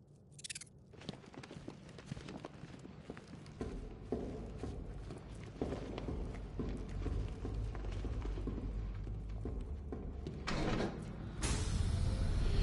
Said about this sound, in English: Closing the vault door will contain the explosion.